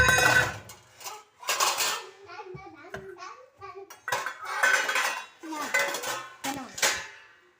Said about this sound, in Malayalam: ഈ ഒരു പാത്രം എടുക്കട്ടെ കടാ.